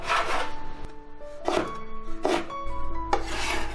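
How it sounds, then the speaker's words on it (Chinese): A knife chops dried radish on a cutting board in a few rough, rasping strokes that repeat at an uneven pace, close up, with a low hum entering near the end. "我们先来把这个萝卜干切碎"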